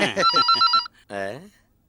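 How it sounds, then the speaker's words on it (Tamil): A telephone rings loud and close in a comic household scene, a short burst of rapid repeated trills that cuts off before a voice speaks briefly. "அந்த போனை எடேன்"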